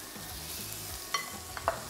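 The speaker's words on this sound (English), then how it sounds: "Listen to that sizzle." Beef pieces sear in hot oil in a pan, giving a steady close sizzle and crackle with a couple of sharper pops near the end.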